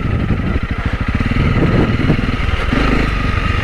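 Honda CRF 300 Rally motorcycle riding off-road in the Peak District, its single-cylinder engine thrumming loudly and steadily up close, with a rough pulsing beat that rises slightly as the throttle opens.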